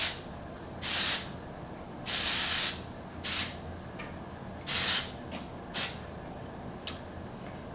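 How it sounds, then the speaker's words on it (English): Oribe Après Beach wave and shine hair spray hisses from an aerosol can in six short bursts of varying length, close up, separated by quiet pauses. "then I'm going to use the Oribe Après Beach spray, which is a wave and shine spray"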